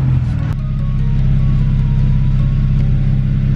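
A heavily modified turbocharged all-wheel-drive BMW pulls away under throttle, a loud, steady low engine drone building after a sharp initial thump and holding close and strong throughout.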